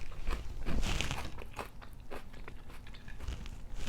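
Raw fresh vegetables crunched and chewed close up, a series of crisp bites and wet chewing that stay steady through the clip with no talking.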